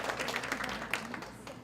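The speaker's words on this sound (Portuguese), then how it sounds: "Pode dar as palmas aí, né?" Brief, quiet clapping rises from an audience at an evening cultural policy talk, scattered hand claps over faint crowd murmur and a low voice in the room, lasting under two seconds.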